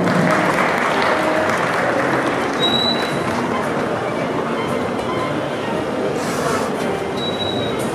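Sustained audience applause at an outdoor village anniversary celebration in Dallmin, dense even clapping from a sizable crowd lasting throughout at constant loudness.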